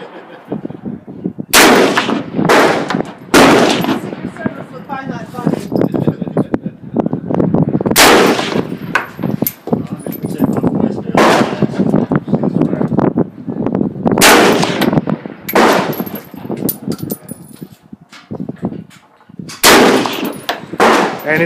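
Gunshots from a Yugoslavian SKS M59/66 rifle at an outdoor shooting range, a series of loud sharp reports spaced a few seconds apart, about six shots, each with a ringing echo tail over steady background noise.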